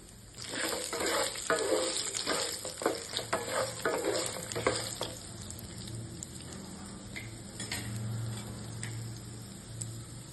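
Ginger and garlic frying in a hot pan for spicy mutton curry, a steady close sizzle broken by repeated scraping stirs in the first half, then settling into a quieter continuous crackle.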